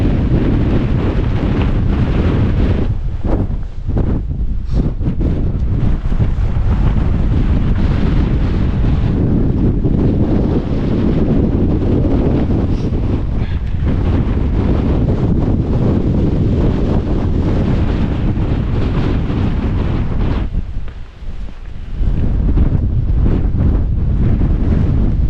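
Strong, roaring Storm Agnes wind on Snowdon's Watkin Path near the summit buffets the microphone continuously, with heavy low rumble and gusts surging throughout, briefly easing near the end.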